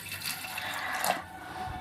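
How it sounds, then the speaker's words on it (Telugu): Water pours from a vessel into a pressure cooker pot holding soaked peas, a steady splashing gush that shifts in tone as it fills. "ఇప్పుడు ఇందులో కొంచెం వాటర్ పోసుకోవాలండి"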